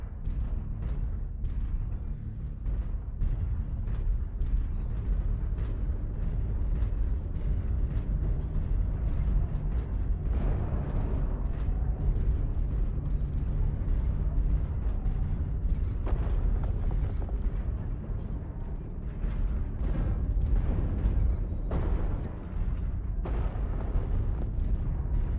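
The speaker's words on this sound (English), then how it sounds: "Artillery strike online." Artillery strike explosions in MechWarrior Online, a continuous rumbling barrage of deep booms and bursts rolling on for the whole stretch, loud and dense with sharper cracks breaking through now and then.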